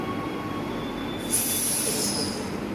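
An empty metro train rumbles steadily into a station, then metal wheels break into a loud, sustained high-pitched squeal as it runs along the platform, with no voices.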